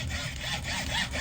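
A hacksaw rasps back and forth through a metal golf club shaft in quick rhythmic strokes, a close gritty scraping with no talking.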